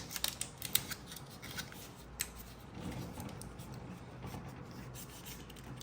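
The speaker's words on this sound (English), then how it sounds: "I'm just going to tape it there just to hold it in place" Adhesive tape is pulled and pressed onto a ball python enclosure, with soft close rips and rubbing at first, then a steady faint scratchy handling sound.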